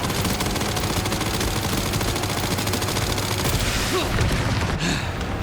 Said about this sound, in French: Ouais, je crains pas trop les balles, Victor.